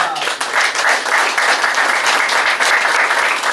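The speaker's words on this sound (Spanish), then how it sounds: "un aplauso para él" Audience applause at a book presentation on Manabí's history, a dense, steady wash of many hands clapping close by for the full stretch, with no talk over it.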